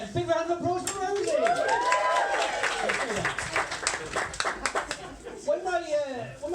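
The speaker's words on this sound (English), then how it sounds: "Big round of applause for Rosie." Audience at a live comedy show claps and applauds for a volunteer brought up as a prop, a loud sustained burst of clapping with crowd noise and the comedian's voice over it.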